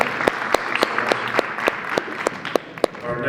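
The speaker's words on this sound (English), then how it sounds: "Big round of applause for that." An audience at a performance event applauds after an act, a crowd of hands clapping in a quick, fairly regular rhythm at moderate loudness, with a few emphatic nearby claps.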